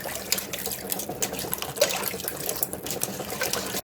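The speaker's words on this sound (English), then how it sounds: "I'm going to stir this around and mix this together really good." Vinegar and sugar being stirred with bread and butter pickle mix for a brine make a continuous close liquid swishing and trickling, with light clinks along the way.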